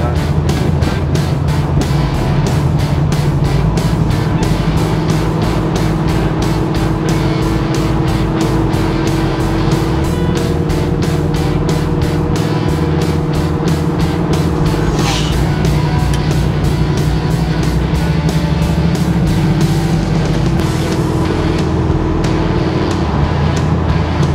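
A Chevrolet Nova V8 drives on only the primary carburetor barrels, giving a loud, steady, pulsing engine drone from inside the car that holds without a break for over twenty seconds.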